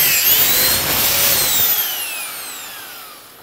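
A Mafell Duo dowel joiner bores into ash wood in a brief, bright high-pitched whine with a falling pitch sweep as the cut finishes, close and loud, then fading out with no talk.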